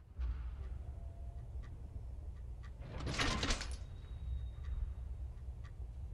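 A door swings open in the horror game Fobia, set in the St. Dinfna Hotel: a single brief swishing burst in the middle, over a steady low ambient drone and faint scattered ticks, with no voices.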